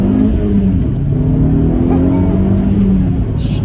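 A 260 bhp Audi S3 8P accelerating hard, its engine droning loud and steady from inside the car as revs climb, with no pause across the short stretch.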